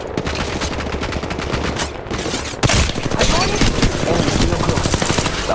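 A fierce firefight in the video game Apex Legends Mobile, with dense overlapping automatic gunfire and a sharp blast partway through, some voice mixed in under the shooting.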